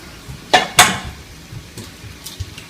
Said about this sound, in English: we're going to crack probably about, say, 10, 12 eggs